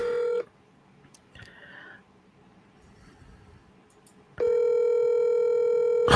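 A telephone call rings out unanswered: a steady ringback tone, a long quiet pause with faint noises, then the tone again, near and clear.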